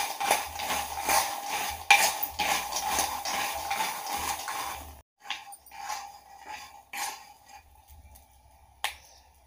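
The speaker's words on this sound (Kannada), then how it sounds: "ಚಟ್ಪಟ್ ಚಟ್ಪಟ್ ಸೌಂಡ್ ಕೇಳ್ತಾ ಇದೆಯಲ್ಲ" Half a kilo of peanuts roasting dry in a hot pan for green masala peanuts give off dense, close crackling and snapping pops, busy at first, then thinning to sparser scattered cracks.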